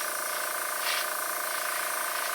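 A steady, even hiss of an airbrush spraying paint on a custom fishing lure, continuous and close, with no voices.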